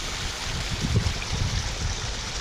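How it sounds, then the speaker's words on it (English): A backyard pond waterfall pours steadily, giving a continuous close rushing and gurgling wash of water with no voices over it. "Waterfall's looking straight."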